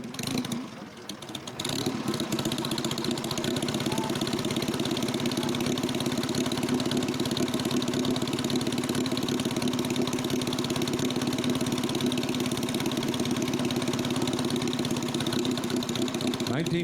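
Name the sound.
1942 Indian Four motorcycle engine idling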